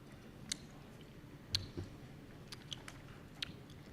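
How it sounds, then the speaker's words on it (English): Someone drinks from a glass of water at a women's conference, giving a few faint, close sips and gulps with small wet clicks in a quiet room. "I'm going to take a drink of water"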